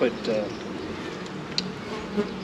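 Honey bees buzzing loudly around a full hive box that was dropped, a steady near swarm drone filling the scene, with a person talking over it.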